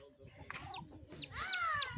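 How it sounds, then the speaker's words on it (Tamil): Young turkey chicks in a village setting give high, thin chirps and peeps, several overlapping in quick bursts, close by over a low rumble of background noise. "வான் கோழி குஞ்சு பாருங்க எல்லாரும்"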